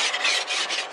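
An ice scraper rasps across frosted car windows in the cold, a close, continuous scratchy scraping with slight strokes swelling and fading.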